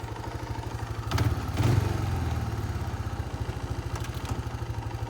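A Kawasaki Bayou 220 ATV engine, freshly reassembled after a clutch repair, idles with a steady low, chugging pulse, rising briefly in a couple of revs before settling back to its even idle.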